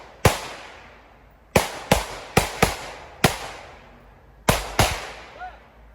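Gunfire at a 3-gun shooting match, rifle or pistol shots on cardboard targets: eight sharp, loud reports with short ringing tails, spaced irregularly with a quick pair near the end, heard outdoors without talk.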